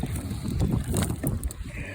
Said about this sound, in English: It's windy as all get out, as you can probably hear